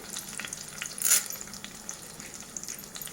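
Onions, green chilies, ginger and curry leaves frying in oil for rava upma, a soft, fairly quiet sizzle with a brief louder hiss burst about a third of the way in, and no talking.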